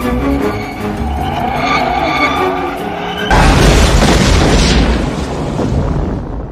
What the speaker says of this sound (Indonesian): karena mobilnya gujelak-gajuluk terus, akhirnya batu itu pun meledak